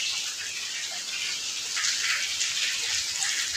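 Heavy monsoon rain pours steadily outdoors, a dense hissing wash of drops with no voices, loud and continuous throughout.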